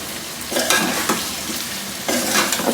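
Three large chopped onions fry in hot oil with browned meat for pyaz gosht, giving a steady sizzle. Several louder scraping stir strokes cut through it, and no voice is heard.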